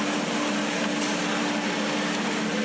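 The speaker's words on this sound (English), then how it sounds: "The thing about steam engines is because they're double acting, they can actually be ran in reverse" A small double-acting steam engine runs steadily in reverse nearby at an old engine show, with a constant mechanical hum and a faint rhythmic chuff, unchanging throughout and without any voices.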